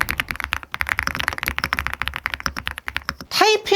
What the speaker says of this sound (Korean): 이 그린축은 뭐랄까 살짝 까랑까랑하면서 또각또각한 소리가 나고